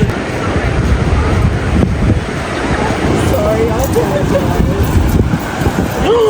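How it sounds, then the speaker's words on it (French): Loud, continuous roar of huge ocean waves crashing in Sydney mixed with heavy wind buffeting the microphone, with faint voices in the background later on. "je sais pas si on capte la taille des vagues parce qu'elles sont vraiment immenses"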